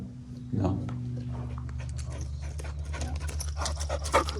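A puppy pants steadily at close range, with rapid breathy huffs and a few faint whimpers over a low constant hum.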